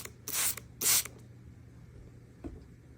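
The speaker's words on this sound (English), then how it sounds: "So you'll spray some on your stains." Two short hissing sprays of stain remover from a trigger bottle onto fabric, close up, followed by a faint softer puff in a quiet room.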